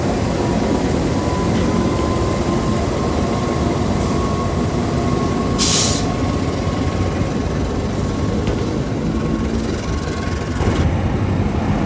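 A passenger train runs steadily and loudly through a railway station, with a continuous dense rumble and rattle of carriages close by and a short hiss partway through, no voices.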